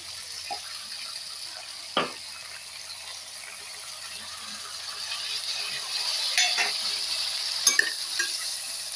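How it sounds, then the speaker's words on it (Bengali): Sesame seed paste stirred and fried in oil for an ivy gourd curry, a soft continuous sizzle broken by a few sharp scrapes and clacks of a spoon against the pan, with no speech. "তিল বাটাটা দিয়েও আমি একটু ভালোভাবে সব আরেকবার নাড়াচাড়া করে ভেজে নেব।"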